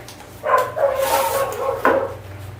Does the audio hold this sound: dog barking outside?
yes